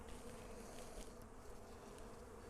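A steady, dense buzzing of many honeybees fills an open hive box during an inspection, constant and close with no pauses.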